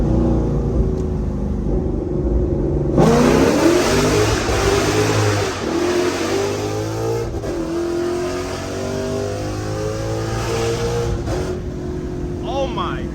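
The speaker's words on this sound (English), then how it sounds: "Say I want to do a first gear pull." A CJ 5.0 Gen 2 car with a very loud exhaust revs hard through a first-gear pull, the engine note climbing steadily and then shifting, heard from inside the cabin.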